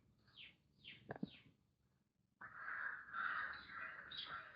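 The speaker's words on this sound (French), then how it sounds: "Il y a les corbeaux qui s'expriment." Crows caw three times in quick succession, harsh and fairly near, followed by a brief knock and then a louder stretch of rustling, broadband outdoor noise.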